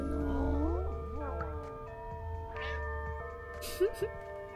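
Cartoonish cat meows in the video game Stray rise and bend over a low background hum, followed by a couple of short chirpy mews near the end.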